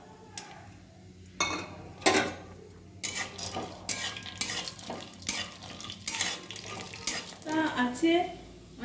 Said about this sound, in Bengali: বাদামগুলো ভাজি।